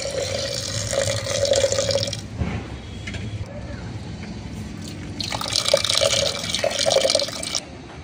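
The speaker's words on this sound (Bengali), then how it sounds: "এর মধ্যে দিয়ে দেব জল" Water pours into a pressure cooker holding lentils that were soaked for over an hour, for a dhaba-style tadka, splashing in two close bursts with a softer trickle between.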